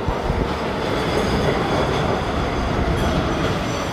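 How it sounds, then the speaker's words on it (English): A train pulls into a station with loud, continuous rumbling and rattling wagons and some wheel noise, heard up close with no voices. "Train's here."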